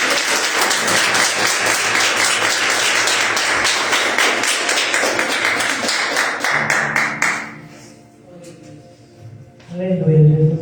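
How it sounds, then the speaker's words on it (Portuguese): A church congregation claps together for Jesus at a service, with dense, continuous applause and taps that fade out after several seconds, giving way to voices and a low hum. "E as palmas são para o Senhor Jesus."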